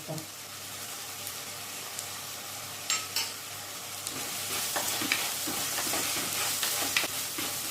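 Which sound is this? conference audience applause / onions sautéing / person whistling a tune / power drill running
onions sautéing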